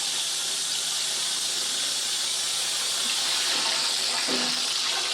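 Water gushes from a tap into a bathtub with the plug in, a steady, loud, hissing rush that fills the whole stretch, with a faint squeak near the end and no talking.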